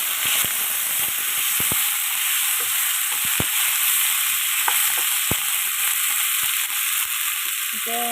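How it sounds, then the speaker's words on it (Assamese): Garlic and ginger fry in hot oil in a pan as the base for a fish curry, giving a steady close sizzle broken by scattered sharp clicks and pops from stirring. "এতিয়া এইখিনি ভালদৰে ভাজি দিছোঁ।"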